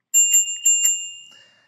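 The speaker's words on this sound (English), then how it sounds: "On the left is also an included bell." A bicycle bell on a Vvolt Centauri mid-drive, belt-driven e-bike rings in three quick, bright, close dings, and the last ring fades out slowly. There is no talking.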